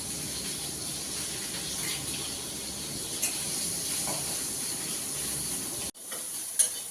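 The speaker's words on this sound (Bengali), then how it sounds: "ওটা ঝুরঝুরো করে ভেজে নিচ্ছি" Shrimp paste, salted and with turmeric, frying in a pan gives a steady close hiss and sizzle with faint stirring scrapes, then briefly drops away near the end.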